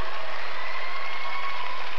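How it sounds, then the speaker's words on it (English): Crowd of hometown fans applauding and cheering at a figure skating rink during the 1995 World Junior Championships, a steady broadband clapping wash sustained throughout, moderately loud with no talk. "with the hometown fans cheering her on"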